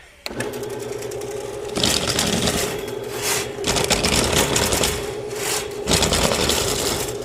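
A drain cleaning machine runs steadily at close range, a continuous mechanical whir and rattle with a gritty scraping texture that swells louder partway through, with no talking.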